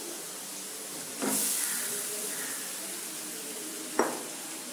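Cooked rice goes into a hot pan for egg fried rice and is stir-fried, giving a soft sizzling hiss that swells as it lands, with a sharp clink of the pan near the end.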